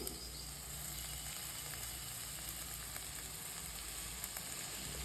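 Chopped black nightshade greens frying in a pan for a kootu, a steady even sizzle throughout with no speech.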